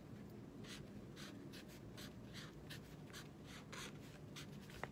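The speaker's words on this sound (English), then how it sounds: "see if the markers can write, and we can write on them" Marker tip scraping across a surface in a craft session, repeated short strokes in a steady rhythm, close and fairly quiet over a low background rumble.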